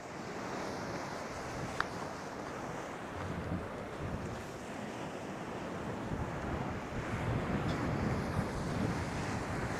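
Strong seaside wind blows steadily over old salt pans on the Maltese coast, a constant broadband rush buffeting the microphone, with faint surf mixed underneath and no voices.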